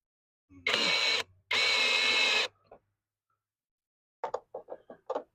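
A cordless power driver runs hex screws to mount the plate of a Kichler Mathus exterior light, two loud whirring bursts of about a second each, followed by a cluster of small taps and clicks.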